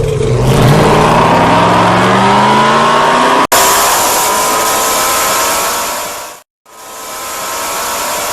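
Pro Street Outlaws race cars launch from the starting box on the Boomtown main street strip, a loud sustained high-revving engine roar that climbs in pitch, then a brief cut and a second burst of full-throttle racing noise.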